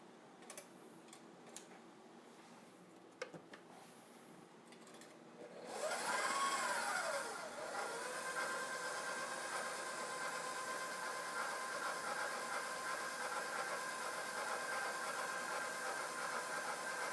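An electric mixer starts up around six seconds in and runs steadily on blueberry oat bread batter, a continuous whirring drone after a few quiet ticks and clicks.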